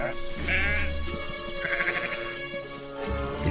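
Sheep bleat repeatedly in a rural farm setting, several wavering calls overlapping one another at close range over a low steady hum, with no one talking.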